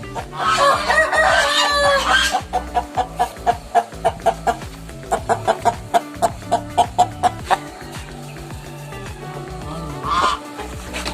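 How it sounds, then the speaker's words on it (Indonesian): A mangon rooster crows loudly and close at hand, with a long drawn-out call at the start, then a run of sharp rhythmic clucks and further calls, and other fowl nearby. "ini jago mangon"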